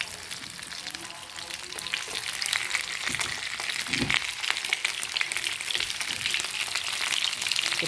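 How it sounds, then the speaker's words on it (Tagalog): Tomatoes and dried fish frying in a pan, a steady close crackling sizzle with popping spatters that builds slightly in loudness and runs on alone without talk. "Prito na natin, guys."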